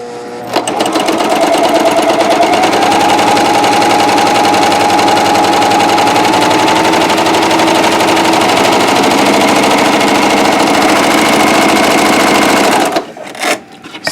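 A Janome CoverPro 3000 cover stitch machine sews fabric with a loud, steady mechanical whir that runs unbroken for about twelve seconds, then cuts off abruptly near the end.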